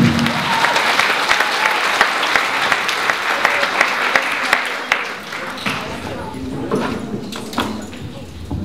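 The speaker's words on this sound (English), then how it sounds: "would you give a round of applause again to Niamh Newton?" A crowd at the Carracastle Lass 2012 event claps for Niamh Newton, loud and continuous at first, then fading into scattered clapping with voices murmuring.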